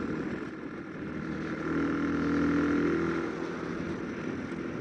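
A 2017 Yamaha MT125 roadster, a 125 cc sport motorcycle, cruises in sixth gear at about 4000 rpm. Its engine hums steadily under wind noise, rising slightly midway with a faint droning tone.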